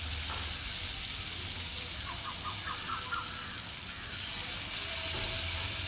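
Bitter gourd slices frying on a hot griddle make a steady, even sizzle and hiss that runs the whole time, with a few faint squeaky chirps in the middle.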